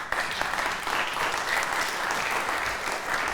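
Dense, steady applause from an audience fills the moment, loud and continuous without pause.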